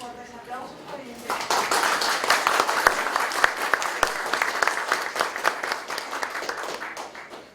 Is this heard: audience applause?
yes